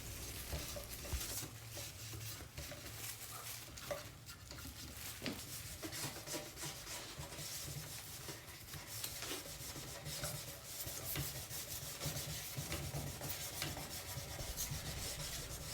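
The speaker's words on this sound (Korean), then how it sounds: "천에 스테인을 묻혀서 전체 면을 문질러 줍니다." Cloth soaked in wood stain rubbed across the wooden boards of a four-tier corner shelf, giving a continuous soft scrubbing hiss with small strokes, quiet and close, with no voices.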